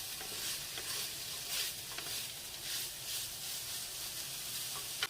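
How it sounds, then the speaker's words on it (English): A spatula stirs cumin seeds and peppercorns toasting in a pan, a faint steady hiss broken by soft, rhythmic scraping sweeps, heard alone and fairly quiet. "I'll give this another stir like this."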